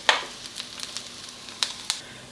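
Onions frying in a pan for a bacon mashed potato dish give a faint sizzle with a few sharp crackles and pops scattered over a quiet background.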